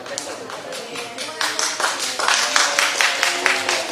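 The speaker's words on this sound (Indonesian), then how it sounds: "Sini nggak perlu ada tepuk tangan" Scattered hand clapping inside a courtroom during a hearing, a few people tapping out uneven claps that grow louder and denser midway, with faint talk underneath.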